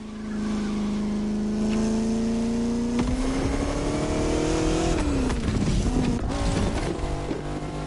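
Engine of the Bugatti La Voiture Noire, an all-black hypercar, droning steadily with rising pitch before a sharp shift and revving, loud and close, with a busy motor-show background.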